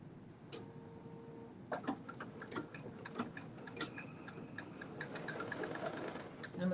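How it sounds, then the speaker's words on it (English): Sewing machine stitching a lapel on a bodice, a soft, continuous run with ticking clicks, fairly quiet and close. "We are stitching the lapel."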